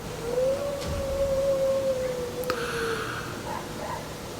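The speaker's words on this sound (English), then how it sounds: "That's a dog, surely." A dog or wolf howls from far off at night on a balcony in San Bartolo Tutotepec, one long wavering tone rising then slowly falling over several seconds against a steady hiss of background noise.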